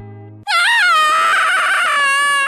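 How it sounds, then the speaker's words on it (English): A person screams very loudly as if being stabbed, one long, sustained, piercing shriek right up close, after a brief quieter tone at the start. "I want you to scream as loudly as possible, as if you were getting stabbed"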